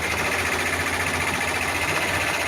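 Multi-needle embroidery machine stitching a mug rug, a steady, fast mechanical whirring and clatter, close and continuous with no talking.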